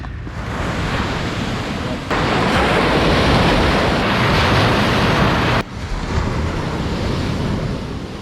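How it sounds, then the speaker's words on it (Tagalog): Strong ocean surf pounds a beach near a mountain, a loud, continuous broadband roar with wind buffeting the microphone, surging heavier in the middle section before easing slightly. "Lakas ng alon."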